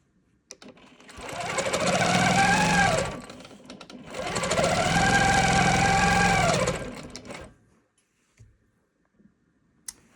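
Sewing machine stitching quilting fabric marked with chalk lines, running in two steady bursts of about two and a half seconds each, loud and close, followed by a few faint clicks.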